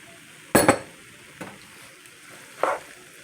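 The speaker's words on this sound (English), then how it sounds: "And then I add my sauce." Spaghetti sauce poured into a hot pan for homemade spaghetti, giving a loud burst of sizzling and spatter, followed by two shorter, softer hisses over a quiet background.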